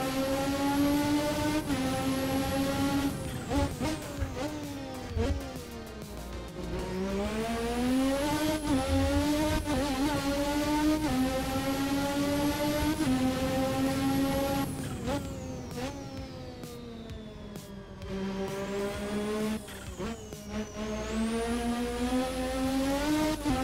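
A race car engine in a sim racing game holds a loud, steady drone, climbing and dropping in pitch as it downshifts with heel-toe blips. The revs swing up and down repeatedly and nobody talks.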